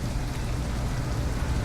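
Rain falls at night on a downtown Detroit street in the game Detroit: Become Human, a brief, even hiss of steady downpour with no talking.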